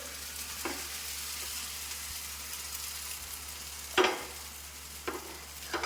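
An egg frying in hot oil in a home kitchen, giving a steady soft sizzle throughout with a few louder crackling spatters and stirring clatters near the end; no one speaks.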